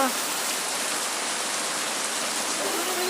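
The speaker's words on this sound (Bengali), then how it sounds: "দেখো কিরকম বৃষ্টি পড়ছে" Heavy monsoon rain pouring down in Kerala, a dense, loud, unbroken hiss of water on surfaces that fills the whole stretch with no pauses.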